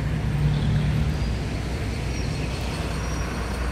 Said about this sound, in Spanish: Un coche por acá